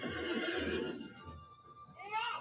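A war steed in Lord of the Rings Online whinnies loudly and close, a shaky descending neigh followed by a quieter snort and a second rising whinny near the end, with no speech.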